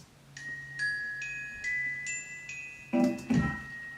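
Glockenspiel sound played on a keyboard, a delicate high-pitched melody of about six bell-like notes in steady succession, each ringing briefly, followed by a couple of louder, denser struck notes at the end.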